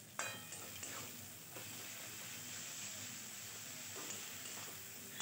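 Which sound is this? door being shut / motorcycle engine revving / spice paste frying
spice paste frying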